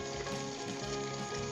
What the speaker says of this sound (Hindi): इसके अंदर पानी मिलाएंगे